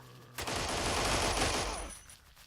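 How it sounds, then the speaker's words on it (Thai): Sustained burst of gunfire in the zombie video game Blockade 3D, rapid overlapping shots forming a dense, loud roar for about a second and a half before tapering off. "เสียงปืนแถวนี้เริ่มดังละ"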